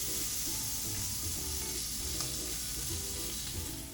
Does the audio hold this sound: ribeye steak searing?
yes